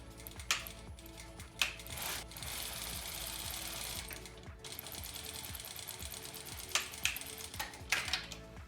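A domestic sewing machine stitches the hem of pajamas in quick rapid bursts, motor whirring between short pauses and a few sharp clicks of handling, close and moderately quiet with no talking.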